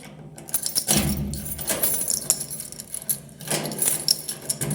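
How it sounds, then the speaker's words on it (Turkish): A large bunch of keys jangles and clinks in repeated metallic bursts, close and fairly loud, with short pauses between the shakes. "Çok anahtar var."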